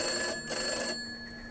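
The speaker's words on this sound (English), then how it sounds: "Now the phone's ringing." Telephone ringing in the Gray Dawn horror game, a steady electronic ring with bright sustained tones, loud and close, with no talking.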